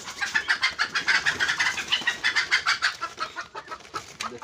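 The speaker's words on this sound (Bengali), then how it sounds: "আর এখানে হচ্ছে এই যে মুরগি" Chickens clucking in a coop, a close, busy stream of overlapping clucks and squawks in quick rhythmic bursts with no talking.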